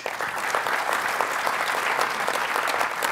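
Steady, even clapping from an audience at a news industry panel event, a moderate, continuous round of applause of many hands without talk.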